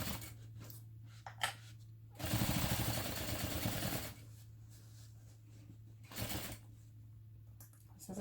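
A sewing machine sews around the curves of a bag in short bursts, one roughly two-second run and a brief later spurt, with soft handling clicks and quiet gaps between.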